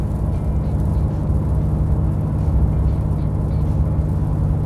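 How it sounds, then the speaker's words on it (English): A RAM 2500 pickup with a 6.7L Cummins diesel tows a load at highway speed, its engine a steady, close, heavy drone that shifts slightly as the transmission downshifts. "There's a downshift"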